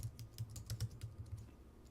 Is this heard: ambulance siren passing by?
no